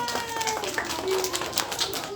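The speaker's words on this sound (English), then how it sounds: "You can clap for the book." A group of young children claps at the end of a library story time, a brisk scattered patter close by, mixed with cheerful children's voices.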